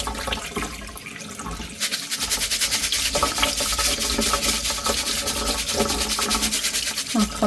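Rice is shaken and rinsed in water by hand, a continuous rough swishing and sloshing that grows louder and denser after the first couple of seconds and keeps going steadily.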